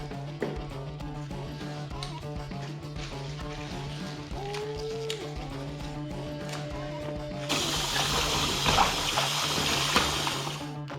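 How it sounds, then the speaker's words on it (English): A kitchen tap turns on and runs over beet greens being washed. It is a steady, fairly loud rush of water that starts partway through, over soft background music. "you just really want to make sure that you wash it really well"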